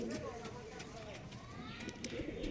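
A pigeon of a high-quality Andhra rekdar or gola line variety in a home loft coos softly and repeatedly, faint beneath someone speaking nearby.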